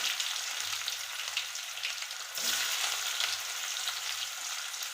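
Chopped onion frying in a pan gives a steady, close broadband sizzle, with a brief louder burst midway and faint low hum beneath; no talking.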